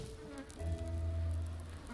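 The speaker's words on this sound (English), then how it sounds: "I hear bees." Insects buzz in a fantasy game built on the Skyrim engine, a low droning hum that swells briefly and holds, fairly close and alone.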